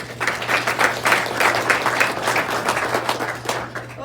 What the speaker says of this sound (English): So give yourself a good applause for that, please.